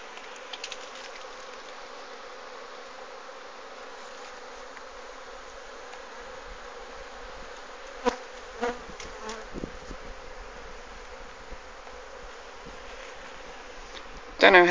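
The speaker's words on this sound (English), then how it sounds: "So, apiary 1, 3 beehives, all of which, as you can hear, are busy." Honeybees working three hives in an allotment apiary, a steady low insect hum filling the whole stretch, with a few brief louder passes and a knock near the end.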